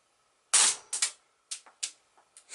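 Homemade party popper pen gun firing a BB, heard as a sharp close snap followed by a scatter of smaller clicks and rattles, brief and crisp against silence.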